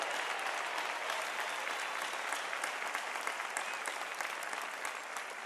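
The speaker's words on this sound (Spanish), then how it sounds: "Un aplauso para ellos, hombre, que están siguiendo al Señor." A congregation at an outdoor World Youth Day Mass in Lisbon applauds young seminarians, a dense, steady wash of clapping from a large crowd at some distance, sustained evenly throughout.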